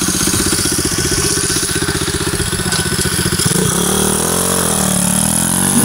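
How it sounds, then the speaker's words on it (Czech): A Chinese motorcycle assembled in a home garage runs close and loud, with a steady rapid engine putter that shifts and revs near the end. "Motorka z Číny, sestavená u nás v garáži, mě to baví."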